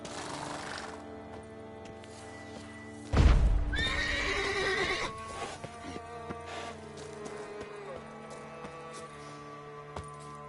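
Roach, a horse in The Witcher video game, lets out a loud close whinny after a sudden thud, followed by rhythmic clip-clop of trotting hooves under a sustained musical backdrop, with no speech.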